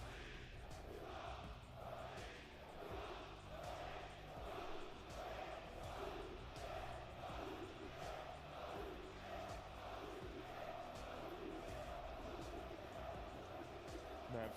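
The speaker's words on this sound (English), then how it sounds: "It's the loudest the crowd has been throughout this weekend." A large French crowd roars and chants continuously in a big indoor esports arena, with rhythmic rising swells of cheering and no clear single voice.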